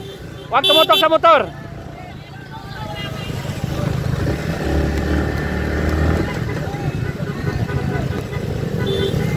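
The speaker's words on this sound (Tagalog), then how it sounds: "Andre, huwag ka tumutok sa motor." On a road, a motorcycle rides close by with a continuous engine rumble and traffic noise, after a loud horn toot at the start; voices are heard faintly.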